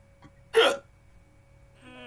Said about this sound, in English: I've got hiccups, it sucks.